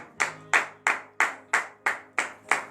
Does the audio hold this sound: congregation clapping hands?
yes